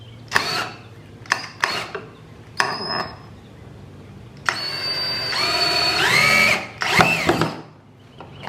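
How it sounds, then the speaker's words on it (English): A power drill drives a screw into a wooden squirrel feeder, with several short loud bursts of whirring followed by a longer sustained run that rises in pitch before stopping, all close and without talk. "So what do you say we put the screw in right now so we don't forget?"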